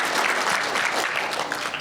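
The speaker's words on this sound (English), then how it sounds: "can you give us a little round of applause?" An audience claps steadily through the whole moment, a dense, fairly loud wash of applause at an event for a children's book author, with no talk over it.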